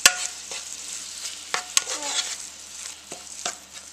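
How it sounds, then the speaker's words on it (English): Ground beef browns in a Ninja Cooking System pot with a steady sizzle as a utensil stirs it, sharp occasional scrapes and knocks against the pot over the constant frying hiss. "we're going to let our meat cook in there and just stir it up"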